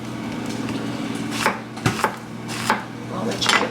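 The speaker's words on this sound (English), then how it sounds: "Slice them right down the middle." A knife slices through zucchini on a cutting board, a handful of separate soft cuts spaced a beat apart at close range, over a quiet kitchen background.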